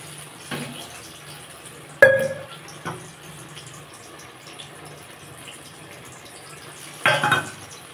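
Water added to a bowl while making a Bengali pumpkin-greens curry with cashew, poppy seed and green chilli paste: a few brief splashes and clinks of the bowl, separated by quiet pauses.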